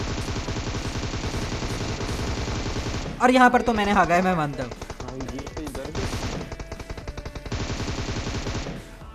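A DP-28 light machine gun fires in PUBG Mobile: rapid, sustained automatic bursts, loud and close, break off while someone talks, then resume near the end.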